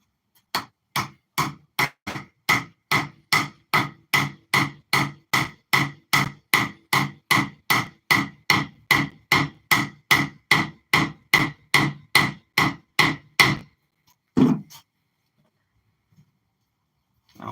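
A hammer drives a drift punch against a metal spindle in a fast, steady run of about thirty sharp metallic strikes. A last isolated blow follows after a short pause.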